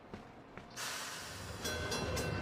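A tram in the Gorogoa video game starts moving, a rising mechanical rumble and hiss of rail travel that swells and holds steady with no voices.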